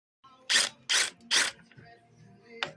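A ratchet loosens the strut mount nut on a 2004 Toyota Sienna, three loud clicking bursts in quick succession, then a quieter pause and one more brief burst.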